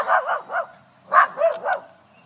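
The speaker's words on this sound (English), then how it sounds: "You gotta be careful because it's a goofy dog." A dog barks and yips in quick succession, three short barks then a second burst of three, close and fairly loud with no talk over them.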